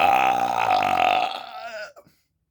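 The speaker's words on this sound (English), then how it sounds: "We're just going to burp." A long, deep burp after drinking A&W root beer. It rumbles steadily for about two seconds, close and loud, and ends in a short sputtering tail with no talk over it.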